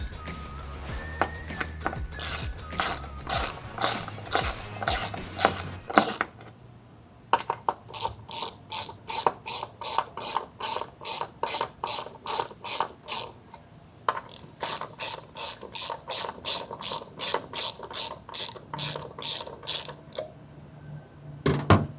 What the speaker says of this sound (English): we're gonna just run them down just a little bit just to be absolutely sure there's nothing wrong with the threads down there